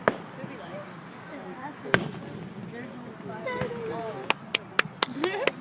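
Fireworks burst at Anaheim in sharp, scattered pops and bangs, several in quick succession near the end, over a background of people talking and crowd murmur.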